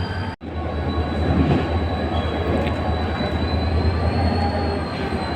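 Train arriving at Karachi City railway station, a steady close rumble of rolling wagons with high metallic wheel squeal running throughout, loud and without talk.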